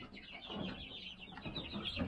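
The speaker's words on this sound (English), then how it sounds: "We got a few chickens in here." Several chickens cluck and murmur softly nearby inside a homestead coop, a scattered run of short clucks with no talking.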